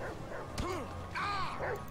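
Dog in the game GTA V giving a few short yips and whimpering barks, close and fairly loud over faint game background, with no talk.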